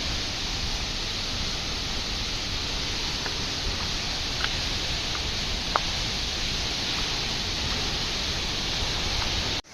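Symbola waterfall near Belagavi in the Western Ghats pours as a steady, broad roar of falling water, close and continuous, with a few faint clicks scattered through it before it cuts off abruptly.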